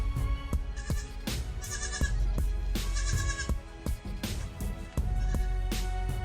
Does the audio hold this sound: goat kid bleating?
yes